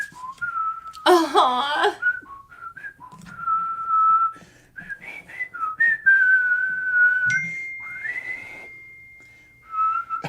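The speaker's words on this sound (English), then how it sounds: "I can't laugh and whistle." A person whistles a melodic tune, with steady held notes and quick pitch slides, broken up by a loud burst of laughter near the start and a soft exclamation from another voice.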